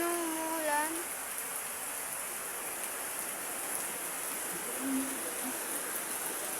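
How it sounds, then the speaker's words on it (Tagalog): Rain falls steadily, a continuous even hiss of drops that holds at the same level throughout, with a few brief tonal sounds near the start. "Tingnan nyo yung ulan dito"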